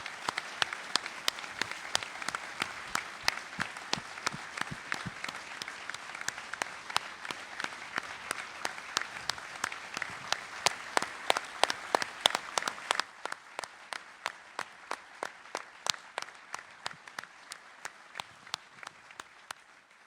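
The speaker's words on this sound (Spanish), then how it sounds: "Les propongo que comencemos con un gran aplauso" An audience at a memorial tribute gives a long round of applause, dense steady clapping that gradually thins into fewer, sharper individual claps, then slow scattered claps as it fades toward the end.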